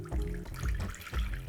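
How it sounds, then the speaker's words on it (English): Water poured into a simmering chicken tikka masala curry sauce in a pan, a short liquid splash and trickle with a few louder surges, close and fairly loud, no talking. "1 cup water. Stir in the water"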